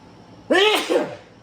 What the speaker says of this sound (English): I shouldn't spin around like that. Makes me sneeze.